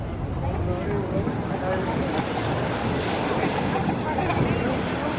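Waves churned up by a demonstration boat at World Port Days in Rotterdam, a steady broadband wash of surf and water with wind buffeting the microphone, continuous for several seconds and fairly loud.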